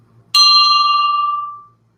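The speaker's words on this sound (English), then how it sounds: "ring the bell for the super chat" A single bright bell strike rung for a live-stream super chat, ringing clear and close, then decaying smoothly over about a second and a half, with no talk over it.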